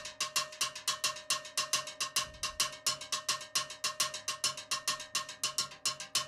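Timbale shell played in a cascara pattern with bouncing stick strokes, giving a quick, even stream of crisp, ringing metallic hits with accented syncopation, near and loud and played alone for several seconds.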